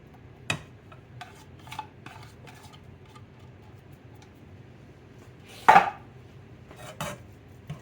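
Shrimp being stirred in a pan, heard as sparse scraping and clinking of a utensil against the metal, with a few sharp knocks and one louder clatter, over quiet background.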